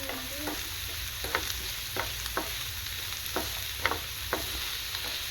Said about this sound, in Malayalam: ക്യാപ്സിക്കം ആഡ് ചെയ്തതിന് ശേഷം നമ്മളൊന്ന് ഇളക്കിയെടുക്കാം